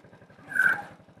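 A Honda moped engine idles close by in a steady low putter, with a brief swell in the middle.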